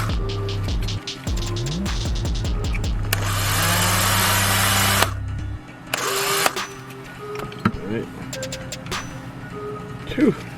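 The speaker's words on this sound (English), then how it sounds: "Let's go ahead and drill this one out." A loud whirring drill in a video game runs in two bursts drilling out a part on a Nissan Silvia S15, among mechanical hums and tones, with a voice talking around it.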